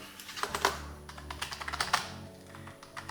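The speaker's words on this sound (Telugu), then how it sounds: "టైప్ చేస్తుంటే కీస్ బాగానే ఉన్నాయి," Rapid, close typing on a colorful Harry Potter themed keyboard at a desk setup, crisp irregular key clicks in quick bursts with a few louder strokes, no talking.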